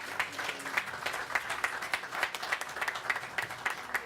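Applause at the SME Star Awards Ceremony 2018, a modest audience clapping steadily with individual claps audible in a quick uneven rhythm, moderately distant and continuous, with no speech.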